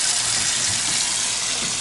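Water gushes steadily from a bathroom tap in a building with strong water pressure, a loud, even broadband hiss that runs continuously without any voices.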